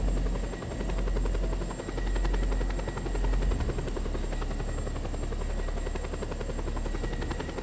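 Helicopter in the video game Just Cause 2, upgraded to the maximum: a steady, loud rotor drone with rapid chopping pulses running throughout, close and continuous with no talk over it.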